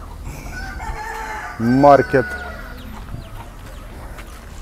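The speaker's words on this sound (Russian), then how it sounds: "Местные куры гуляют." Local chickens roam a street beside small shops in Zanzibar, and one gives a loud, brief, drawn-out call mid-stretch, standing clearly above steady outdoor background noise while a voice speaks faintly.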